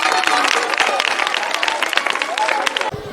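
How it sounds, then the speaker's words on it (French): A crowd applauds steadily at a private school's flag-raising ceremony, dense clapping filling the space with some cheering voices mixed in, then it cuts off abruptly near the end. "on applaudit pour elle"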